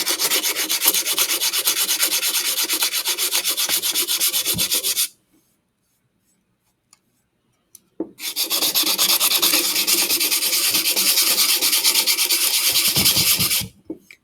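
Sandpaper rubbing back and forth across a wooden project to remove remaining grooves, a steady close rasping scrape in two long bursts separated by a few seconds of near silence.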